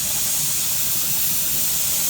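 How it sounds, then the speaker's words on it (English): Steam hisses off a cooking pot, a loud, close, continuous airy hiss that holds steady for the whole moment with no talking. "We're getting that steam off the pot."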